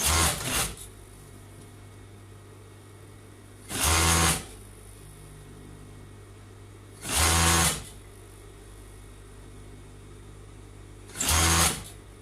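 Straight-stitch sewing machine sewing a dress, three short loud whirring bursts of stitching separated by quiet pauses with a low steady motor hum, close and without talk.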